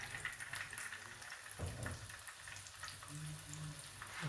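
Peshawari chapli kebabs frying in oil with tomato, a faint, steady crackling sizzle with small pops, heard alone at low volume.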